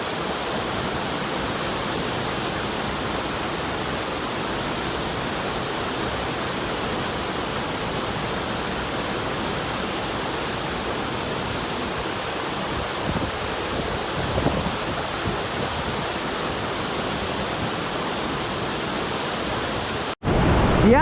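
Broadband roar of a waterfall along the Miller River, a steady hiss of falling water and spray that stays loud and unchanging for about twenty seconds, with a short bump near the end.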